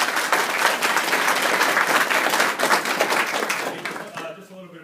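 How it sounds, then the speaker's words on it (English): A graduation audience at a Pensacola A-School ceremony breaks into sustained, loud applause for the staff, a dense wash of clapping that fades toward the end. "A round of applause for your staff,"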